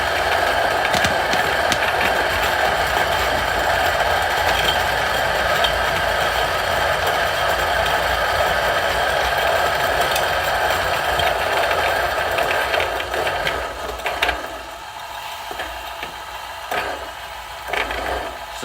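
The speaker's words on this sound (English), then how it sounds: "So still grinding a couple beans there" A Niche Zero coffee grinder grinds beans with a loud, steady close whir that weakens toward the end into intermittent sputters as the last few beans are ground.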